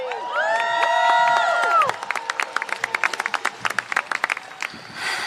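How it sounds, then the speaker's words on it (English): Audience at a rally-style event cheers with sustained shouts for about two seconds, then breaks into a dense burst of clapping that continues to the end. "Let's give her a round of applause."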